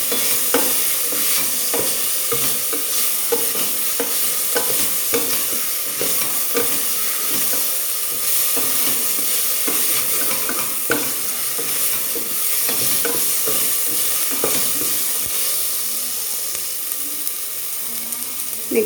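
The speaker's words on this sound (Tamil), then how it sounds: "வாஷ் பண்ணி வச்சுருக்க புதினா அண்ட் கொத்தமல்லி ஆட் பண்ணிக்கலாம்." Mint, coriander leaves and green chillies frying in a pan for mutton nombu kanji, giving a steady close sizzle with scattered stirring clinks throughout, no voices.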